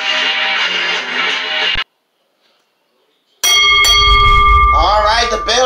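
Bell rung to open the main-event World Tag Team Championship wrestling match at an ECW WarZone show: after a loud stretch and a brief silence, a bright ringing bell tone sustains with shimmering overtones over crowd noise.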